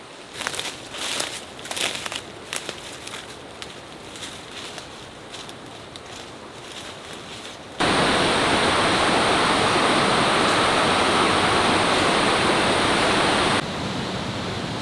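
A jungle river in Bali flows nearby. Faint rustling and handling noise comes first, then a loud, steady rush of water takes over for the rest, dropping slightly in level near the end.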